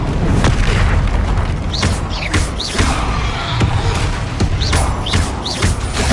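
Repeated Confringo fire-spell blasts from Hogwarts Legacy, loud booming bursts with whooshing streaks, coming several times in quick succession amid continuous combat noise.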